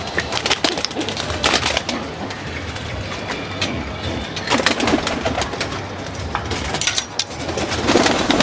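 Pigeons kept in a home loft during moulting season coo softly and intermittently, with a steady background hum and occasional rustles close by.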